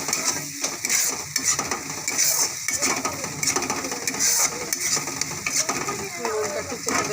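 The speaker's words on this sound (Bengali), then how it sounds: "ভালো লাগছে দেখতে মশলাটা কষানো।" Spices frying in oil in a pan, a steady close sizzle with repeated stirring scrapes and light clinks from a utensil, continuous for several seconds.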